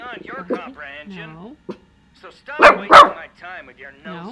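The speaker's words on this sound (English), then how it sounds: "Sorry for the barking, guys." A dog barks twice in quick succession, loud and close, amid ongoing talk from a person speaking near the microphone.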